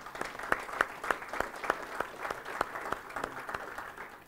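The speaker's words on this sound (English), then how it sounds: "if you could take the time to give all the team here over here at Kirstall a round of applause" Audience applause for the team at Kirstall at an evening event, a modest round of clapping with distinct sharp claps standing out over a steady patter, fairly close and moderate in level.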